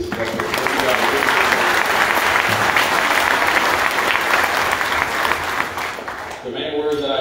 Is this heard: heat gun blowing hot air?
no